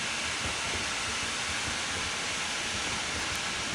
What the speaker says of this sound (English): Whoa, I cannot slow this train down.